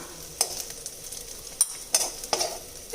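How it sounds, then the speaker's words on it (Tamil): Onions and garlic sautéing in oil in a pan for tomato chutney, with a soft steady sizzle and a few sharp scraping stirs of a spoon against the pan at irregular intervals, close by and with no talk. "இப்போது வெங்காயம் பூண்டு வதங்கிடுச்சுங்க"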